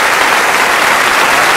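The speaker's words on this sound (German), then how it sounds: "ein Applaus für unsere vielwissenden Damen" Studio audience on a German quiz show breaks into dense, loud, continuous applause that fills the whole moment without any voices.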